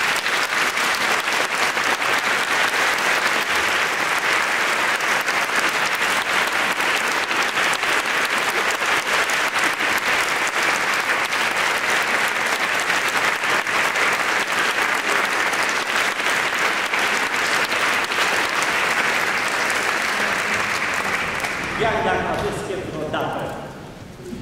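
Sustained audience applause at a graduates' classical concert in a hall, a dense, loud wash of clapping that continues steadily for the whole stretch and fades slightly at the end.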